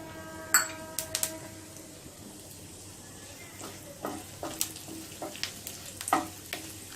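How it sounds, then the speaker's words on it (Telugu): Cumin seeds frying in hot oil in a pan for jeera aloo make a soft, steady sizzle, with scattered clinks of a utensil stirring against the pan, close and quiet. "నూనె వేడైన తర్వాత జీలకర్రను వేసుకుని వేయించుకోవాలి."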